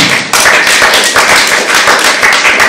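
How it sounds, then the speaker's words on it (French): A conference crowd applauds Joe at a hip-hop event, close and loud clapping with distinct individual hand strikes, a brisk rhythmic patter after a brief quiet start. "Vous pouvez applaudir s'il vous plaît."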